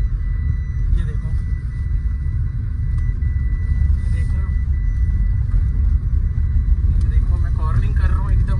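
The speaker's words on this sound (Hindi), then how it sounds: "ये देख रहे हो गाड़ी एकदम कॉर्निंग कर रहा हूँ मैं" A used Mahindra XUV, about 40,000 km on it, drives and corners hard, giving a steady, loud low engine and road rumble that runs the whole way through with no break.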